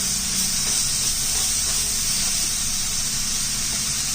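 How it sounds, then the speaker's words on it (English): Mushrooms sizzle in a pan over medium heat, a loud steady hiss that carries on evenly throughout with no voices. "I'm reducing my heat down to medium as well as the mushrooms start to cook."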